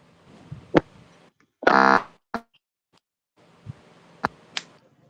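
During a phone call, short electronic beeps and buzzy tones come through a line that is otherwise quiet, including one longer harmonic buzz, with small clicks between them.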